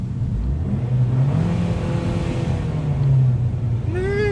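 Abarth 595 Esseesse hot hatch engine revving in normal (non-sport) mode, a steady loud engine drone that swells mid-clip, heard close from inside or beside the car.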